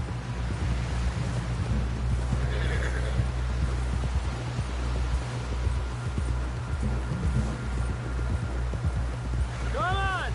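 A horse in the Western video game Red Dead Redemption 2 neighs and whinnies near the end while hooves clop throughout, over rain and rumbling thunder, with characters talking.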